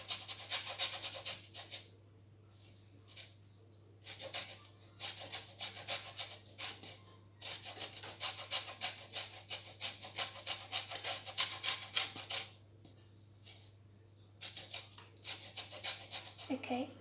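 Bursts of soft rasping as a lemon is rubbed against a zester in a kitchen, several short scraping runs separated by quiet pauses, close but fairly faint over a steady low hum.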